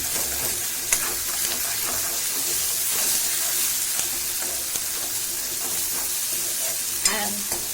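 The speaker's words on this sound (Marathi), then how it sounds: "हिंग घालायचा थोडा आणि चांगली हिच्यातने हलवू हलवायची चांगली खाली वर वर खाली छान करायची" A masala paste with asafoetida for spinach vadi bhaji is stirred and scraped around a frying pan, close and continuous, with soft sizzling underneath and occasional spoon knocks against the metal.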